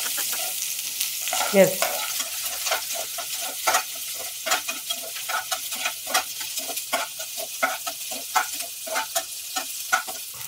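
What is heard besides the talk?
shallots frying in oil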